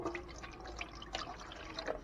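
Faint splashing and dripping water as seasoned chicken liver is washed in a basin outdoors, with soft irregular sloshes and trickles close by.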